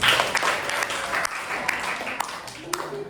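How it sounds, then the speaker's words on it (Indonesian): A class of students claps together in a room, a steady wash of applause with sharper individual claps standing out and a voice talking over it. "Beri tepuk tangan dulu buat kita semua"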